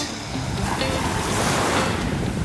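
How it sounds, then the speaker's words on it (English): Ocean waves washing in at Dumaluan Beach on Bohol Island, Philippines, a loud, close, continuous rush of surf mixed with wind buffeting the microphone. "my feet in the water, strolling along the beach"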